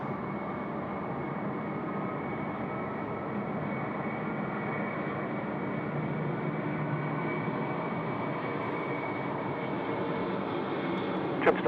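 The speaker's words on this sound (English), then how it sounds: "The 747-400 freighter. Off to Melbourne, early rotation." A Boeing 747-400 freighter takes off from Sydney Airport bound for Melbourne. A steady, broad jet engine roar holds from a distance and builds slightly louder toward the end.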